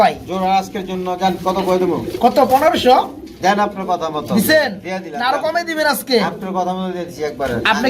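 Lahori pigeons, a matched pair, coo in a repeated rolling rhythm close by, mixed with people talking over them.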